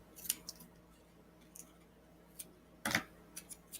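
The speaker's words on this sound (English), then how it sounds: "I'm going to remember to cut off these corners." Scissors snip corners off a paper rocket in a maker lab, a few faint sparse clicks and then one louder, sharper cut near the end, with no talking.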